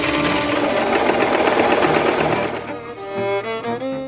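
A sewing machine stitches a French seam on sheer silk, a rapid loud whirring run of stitches that slows and stutters to a stop near the end.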